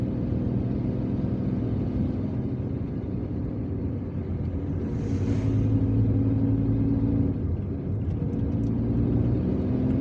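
Car driving along a narrow forest road, a steady low rumble of engine and tyres that swells slightly as it passes, moderately close, no talk.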